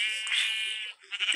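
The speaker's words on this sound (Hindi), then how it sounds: "अरे बकरी क्यों चल रही है" A goat in a video game lets out a loud, drawn-out bleat that wavers, drops off briefly, then returns as a shorter second bleat close to the listener.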